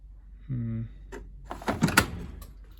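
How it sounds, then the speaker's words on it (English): A short electronic beep, then a Bosch Varioperfect washing machine door thumps shut with a rattle and a brief gush of water. "That's water running down from me closing the door."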